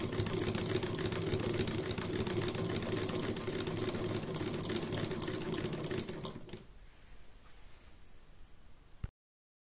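A sewing machine stitching through nine thick layers of gauze, a fast steady mechanical chatter that runs continuously, then stops, leaving quiet room tone and a final click.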